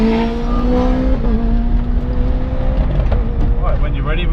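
A Radical race car passes on a circuit while a Mustang Shelby GT500 pulls aside. A loud engine drone dominates with a rising, shifting tone, and speech mixes in over it.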